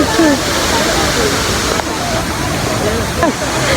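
A waterfall roars steadily and loudly throughout at close range, a dense broadband rush with faint voices beneath.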